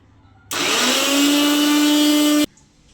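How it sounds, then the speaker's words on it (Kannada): An electric mixer grinder (mixie) powders protein powder ingredients in one loud, steady two-second run. The motor whines up to speed, holds a high pitch, then cuts off abruptly into quiet. "Mixie switch."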